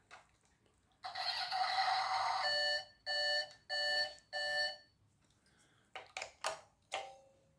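Electronic sound effects from a Britains Big Farm 1:16 scale Case IH 140 radio controlled toy tractor: a sustained synthetic tone, then three evenly spaced beeping bursts, followed by a few shorter chirps, fairly quiet and close with no talking.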